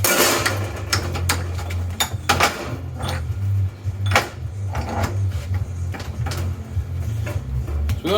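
Hammer blows shaping floor-repair sheet metal on the flat face of an anvil, striking in an irregular series of sharp metallic hits over a steady low hum.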